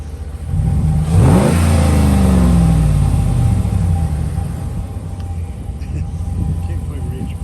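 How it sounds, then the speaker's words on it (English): A 2014 Ram 1500 pickup's 5.7L HEMI V8 with a Rough Country exhaust revs once loudly, pitch climbing and falling back, then settles into a deep, steady rumble. "rev it up a little bit for you so you can hear the engine and the exhaust"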